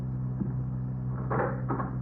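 Door opening as a sound effect in a 1950s Dragnet radio drama: a faint knock followed by a short creaking, rattling pair of clicks over a steady broadcast hum, with no voices.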